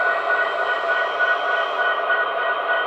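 Steady loud rolling drone of an HO scale BNSF model locomotive's sound effect, a continuous engine hum with no talking.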